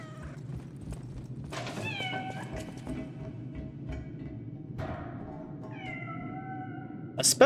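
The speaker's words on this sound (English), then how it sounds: "Especially for such a light kitten, how does it make so much noise going through the vent?" A kitten meowing inside a vent in the video game Lies of P, several thin, wavering cries spaced a few seconds apart over a low steady background hum.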